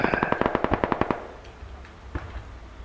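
Automatic gunfire in the video game Squad: a rapid burst of about a dozen sharp shots, then scattered distant reports and a quieter ambient battlefield background, with no talk.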